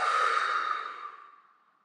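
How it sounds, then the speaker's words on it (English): A slow, airy exhale during a leg stretching routine: one long breath out that starts fairly strong and gradually fades away, with no other sound. "breathe out."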